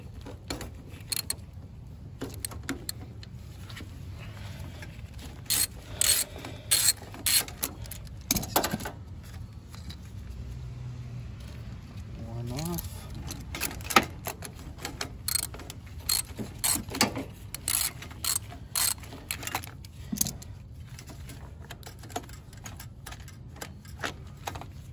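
Wrenches work loose 11 mm bolts on a John Deere LA125 riding mower, producing scattered metallic clicks, ratcheting and clinks at close range, quiet between bursts.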